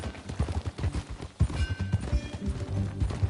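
Horse hooves clip-clop at a steady trot in Red Dead Redemption 2, close and moderately loud, with game music and ambience underneath and brief voices.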